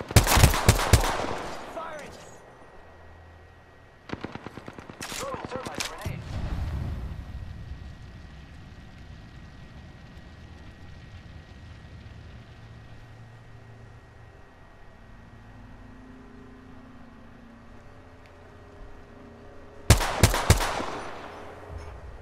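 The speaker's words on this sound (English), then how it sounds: "I am taking fire, friends." Gunfire bursts in Apex Legends on World's Edge, with an Octane player under fire: clusters of sharp shots near the start, around the five-second mark and again near the end, separated by quieter stretches of low game ambience.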